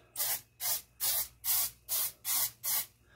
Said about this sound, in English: I'm just going to spray it with the nonstick spray.